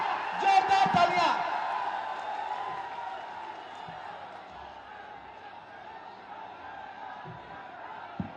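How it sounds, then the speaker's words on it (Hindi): A crowd at a political rally cheers and whoops loudly at first, then settles into a long, fainter wash of distant applause and murmur, with a few thumps along the way. "जोरदार तालियां, जोरदार तालियां"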